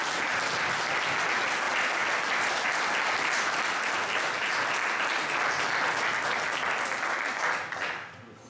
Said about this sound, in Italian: fare un applauso a Vittorio Minasi